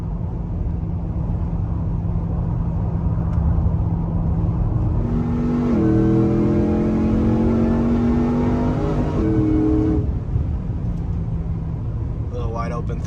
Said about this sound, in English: Little wide open throttle there.